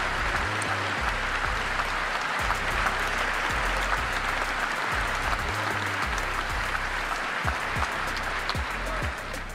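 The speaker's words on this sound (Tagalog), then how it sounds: "Basta pumalakpak lang kayo ha," Sustained applause from a large audience in a hall, loud continuous clapping from many hands that holds steady throughout, with no talk over it.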